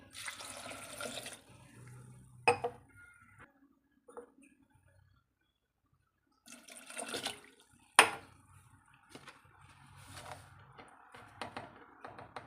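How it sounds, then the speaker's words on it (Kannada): Water pours in short bursts with gaps of quiet between, splashing into a pressure cooker close by, with a sharp clink or two. "ಒಂದೂವರೆ ಗ್ಲಾಸ್ ಆಗೋಷ್ಟು ನೀರನ್ನು ಹಾಕ್ಕೊಳ್ತೇನೆ ನೋಡಿ"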